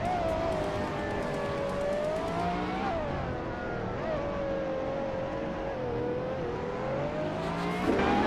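A 2015 McLaren P1 GTR hypercar and rival race cars accelerate off the start line in a racing video game, with a loud, sustained engine whine rising and dipping in pitch continuously over several seconds.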